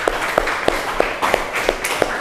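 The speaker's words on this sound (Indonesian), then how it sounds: "Tepuk tangan dulu buat kelompok Pantai Tanjung" A classroom applauds a student group named Pantai Tanjung, with sparse, uneven claps from a small crowd spread over about two seconds, moderately loud in a room with low background murmur.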